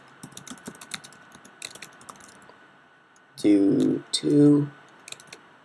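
Rapid, light clicks of typing on a computer keyboard while programming in Python, scattered and close, with someone speaking over and between the keystrokes.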